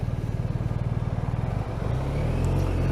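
A BMW R 1250 RT motorcycle riding on a cold day gives a steady, close engine drone with a low pulsing beat, shifting at one point to a smoother, louder rumble as wind noise builds.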